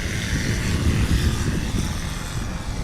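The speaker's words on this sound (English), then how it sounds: "Oh, really nice job on the Rotax powered Highlander." Rotax-powered Highlander light aircraft flying at a STOL event in Creswell, Oregon, a steady propeller engine drone with broad rushing noise, moderately near and continuous, with no voices.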